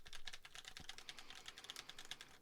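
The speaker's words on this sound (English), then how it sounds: "So I'm going to begin typing now." Rapid, quiet clicking of keys being typed on tactile keyboard switches in a steady flurry, each press a soft tactile clack, with no talking.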